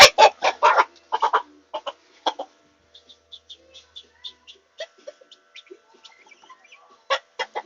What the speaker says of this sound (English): So you have a really mean rooster.